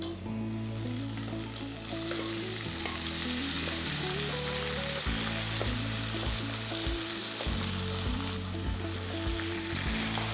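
Cooked beef with curry leaves sizzling and frying in a pan for a Kerala-style beef pepper fry, a loud, steady, close sizzle that runs without a break, with music playing underneath and no talking.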